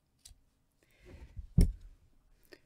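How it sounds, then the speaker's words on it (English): Scissors snip yarn at the end of a crochet row: a few soft clicks and one sharper close cut, quiet and isolated, with no voices. "I'm going to go ahead and cut my yarn"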